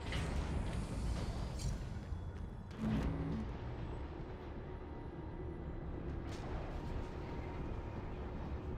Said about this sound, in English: When they triggered the reactor thing, I think it was an instantaneous kaboomification.